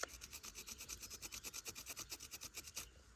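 Wooden heartwood rubbed flat with a rough sanding stone, producing about twenty rapid, regular back-and-forth scraping strokes, close and rhythmic, with no speech.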